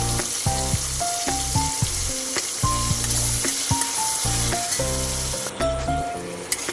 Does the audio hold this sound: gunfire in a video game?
no